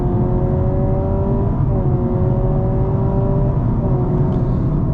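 Simulated engine roar from a Honda Civic hybrid played through the car's speakers while accelerating, a steady, loud, humming drone with a slight shift in pitch partway through, heard alone.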